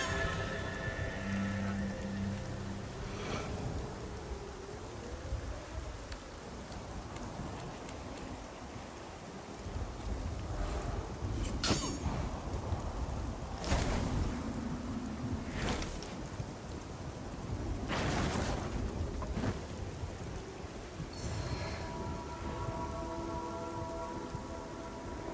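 Steady, dense rainfall from the video game Lords of the Fallen fills a dark, moody scene, with a few louder gusting surges rising over the constant patter.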